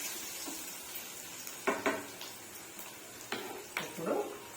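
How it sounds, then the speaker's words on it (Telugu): Mixed vegetables for a festive curry fry in oil with turmeric, a soft, low sizzle broken by a few sharp clicks of stirring against the pan. "కొంచెం వేగనిద్దాము."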